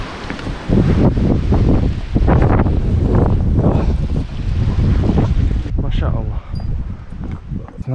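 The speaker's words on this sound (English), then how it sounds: "It's windy." Loud, blustery mountain wind on Gerlach peak in Slovakia buffeting the microphone in strong continuous gusts, roaring and rumbling, easing slightly near the end.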